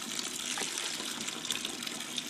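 Liquid poured into a home-brewing vessel, a soft continuous splashing trickle that stays fairly quiet and steady for a couple of seconds.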